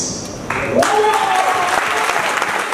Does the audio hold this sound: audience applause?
yes